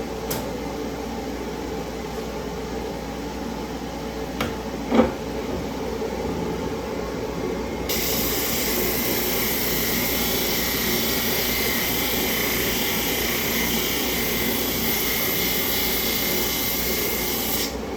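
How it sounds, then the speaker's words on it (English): The dust collector on a Powermatic spindle sander kicks on partway through, bringing a steady, airy whoosh. Before that there is a quieter workshop hum and a single small knock. "Turn our dust collector on, because this thing has an awesome dust collector."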